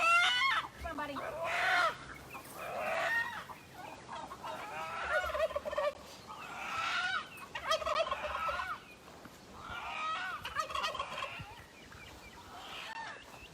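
A backyard chicken about to be processed at home clucks and squawks in repeated bursts at close range, with some faint background noise between calls.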